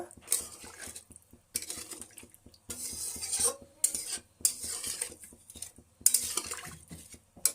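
A spoon scrapes and stirs masala in a metal pan, with bursts of clinking and scraping separated by brief pauses, close by and moderately loud.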